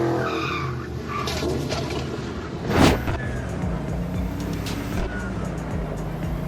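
Car driving in the video game Cyberpunk: Phantom Liberty, with a steady engine drone and tyre noise throughout and one brief louder skid or crash burst near the middle.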